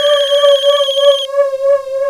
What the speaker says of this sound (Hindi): अरे कब से फोन बज रहा है, उठाती क्यों नहीं?